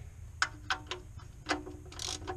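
A ratchet snugs down the drain plug on a Chrysler during an oil change. Several distinct, close clicking bursts are spaced unevenly, then a brief hissy scrape.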